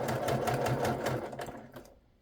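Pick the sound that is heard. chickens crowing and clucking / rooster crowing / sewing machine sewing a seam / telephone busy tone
sewing machine sewing a seam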